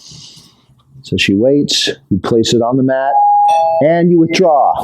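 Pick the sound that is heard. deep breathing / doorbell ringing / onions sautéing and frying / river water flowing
doorbell ringing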